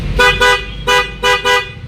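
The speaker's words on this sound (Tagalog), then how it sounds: "pag pinindot natin dito sa taas, ay babalik din siya doon sa malakas na busina" A loud aftermarket motorcycle horn blares in five short, sharp honks: two quick ones, a pause, then three more, close up.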